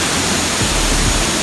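Kilangin Falls in Liliw, Laguna pours in a dense, unbroken roar of rushing water, loud and close, with no voices over it.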